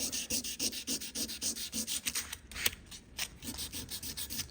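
Guitar frets on a Squier Jaguar being polished by hand with 400 grit abrasive, a close, rhythmic back-and-forth rubbing in quick regular strokes with a brief pause near the middle.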